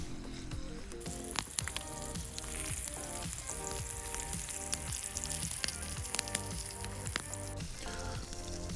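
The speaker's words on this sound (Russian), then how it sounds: "Обжариваем свиные колбаски улитки для бургера." Coiled pork sausages fry for burgers during outdoor cooking over a campfire in the forest. A loud, steady sizzle with dense crackling and popping runs throughout, close up and without talk.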